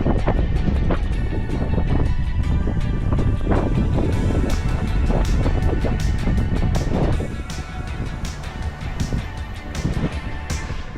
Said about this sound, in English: God, that's windy.